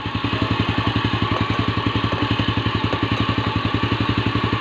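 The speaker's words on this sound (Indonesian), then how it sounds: "Nah, di sini sudah hidup mesin ya" A Honda Astrea Grand motorcycle engine idles close by, a steady rapid chugging putter with even pulses and a light mechanical clatter, loud and unbroken.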